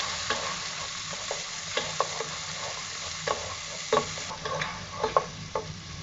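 Finely chopped onion frying in a pan for jeera rice and dal fry, a continuous close sizzle broken by repeated scraping stirs and clinks of a spatula.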